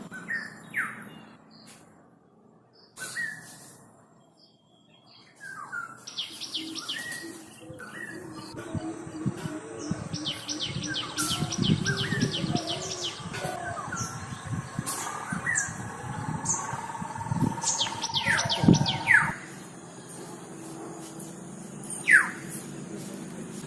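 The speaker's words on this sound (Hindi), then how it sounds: "चिड़ियों की इस चहचहाट के बीच उस स्पेशल पीली चिड़िया की आवाज भी सुनाई दी" Several birds, among them a special yellow bird, chirp and trill in a springtime outdoor setting, with short repeated calls layered over a steady insect buzz, some calls close and sharp, others fainter in the distance.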